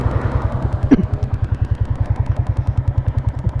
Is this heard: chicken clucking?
no